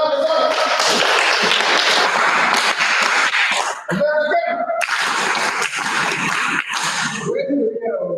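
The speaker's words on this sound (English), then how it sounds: "Let's clap for one." At a technical team meeting launch, a roomful of people clap in loud, dense bursts. A short lull comes partway through before the clapping surges again, with voices mixed in.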